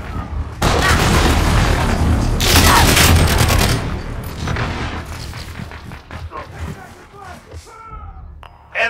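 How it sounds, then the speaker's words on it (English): An allied cruise missile strike in a Call of Duty multiplayer match sets off loud, dense explosions and rapid gunfire bursts, followed by a fading rumble and scattered voice chatter and game announcer callouts. "Allied cruise missile launched."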